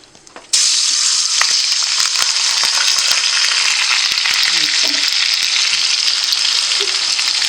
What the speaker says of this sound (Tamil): மேரினேட் பண்ண சிக்கனை நம்ம போட போகிறோம்.